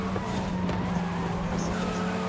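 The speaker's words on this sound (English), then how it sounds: "Turn it up a little as well so you guys get some of the engine noise" A race car engine in a racing video game at Vulkan Raceway hums with a steady buzzing drone at moderate volume, with faint tire and skid noises flickering over it.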